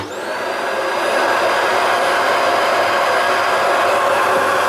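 A loud, steady mechanical whoosh of suction and air rushing from a Shark robot vacuum station self-emptying, starting abruptly and holding constant without a break.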